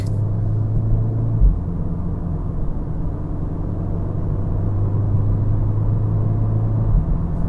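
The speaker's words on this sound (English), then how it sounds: "Second gear, third gear, there you go, there's a jerk." A VW Golf R Mk7.5 with a DSG gearbox accelerates in race mode, heard from inside the car as a steady, loud low engine drone and rumble with one brief thump where a gear changes.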